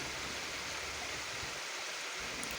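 Broad, steady rushing of the stream below Choorakkode Waterfall, dense and constant throughout, close and loud with no voices.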